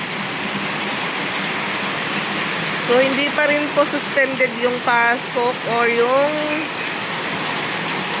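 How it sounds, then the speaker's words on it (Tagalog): Heavy rain pours steadily as a broad, constant wash of sound throughout, with someone speaking over it in the middle. "Alas 11 na at ayan, lumalakas pa po lalo yung ulan mga kapiks."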